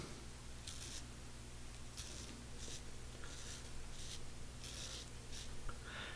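A Professional Super Blade razor scrapes stubble from a sideburn in a series of short, close, crisp strokes, under a faint steady background hum.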